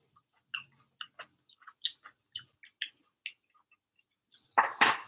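Close, crisp chewing of crunchy roasted carrot fries seasoned with cinnamon and chili, a string of sharp bite-and-crunch clicks with short pauses, ending in a louder burst of chewing.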